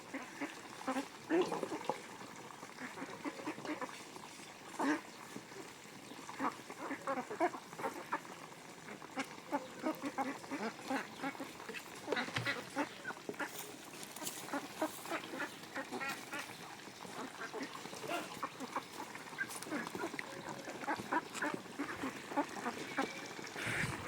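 Two-and-a-half-month-old ducks on a duck farm quack in a steady, dense chorus that fills the whole stretch, a busy flock close by with no pauses.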